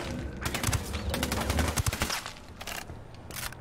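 Submachine guns in Ghost Recon Wildlands fire in rapid, crackling bursts, with several volleys close together and then a shorter burst after a brief lull.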